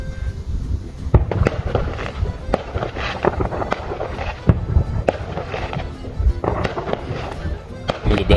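Repeated sharp bangs and crackles from electronically timed Canada Day fireworks burst at irregular intervals over a steady rumbling background, loud and fairly close.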